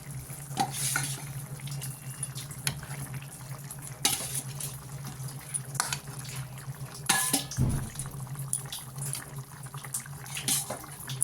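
Eggs going into a boiling curry in a pot, with soft bubbling and a steady low hum beneath intermittent clinks and knocks of utensils against the pan.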